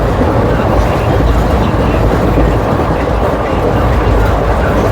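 Tungabhadra Express running at high speed, a loud continuous broadband rumble and roar heard from inside the train, steady and dense throughout without distinct clicks.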